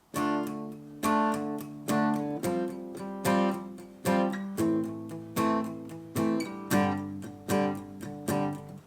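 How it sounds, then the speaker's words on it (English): Steady palm-muted guitar strums, short choppy down-strokes in a regular rhythm with brief bursts of ringing chords, played alone and close. "short, kind of muted strum."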